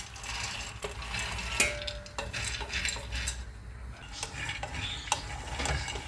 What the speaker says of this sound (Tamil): பச்சை வேர்க்கடலை எடுத்து ஓகே ஃப்ரை பண்ணிக்கலாங்க